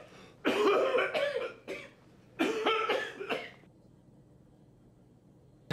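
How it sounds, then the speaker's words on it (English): A person coughs in two harsh, close bursts of several coughs each, separated by a short pause and followed by quiet, in a hospital scene from a TV comedy. "How long have you had that cough?"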